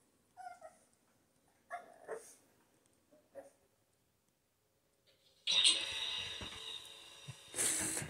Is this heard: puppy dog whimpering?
yes